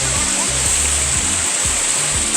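Telempong waterfall in Banyuglugur, Situbondo, with a rushing stream nearby, making a steady, loud, close broadband roar of falling and churning water that holds constant without a break.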